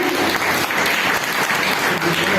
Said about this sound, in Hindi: तालियों में स्वागत कीजिए